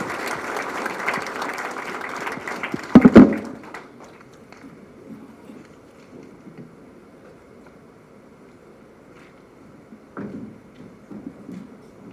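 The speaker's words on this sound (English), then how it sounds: "Another round of applause for our chief guest" Conference audience at the second annual Regulatory Authorities and Agencies conference applauds loudly for about three seconds, with a sharp burst near the end, then the hall settles into a low, quiet murmur with a few faint stray sounds.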